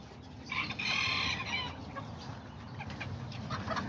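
Chickens clucking and calling in a farm pen bedded with fresh straw, a brighter burst of clucks near the start settling into steady softer clucking close by, with no talk.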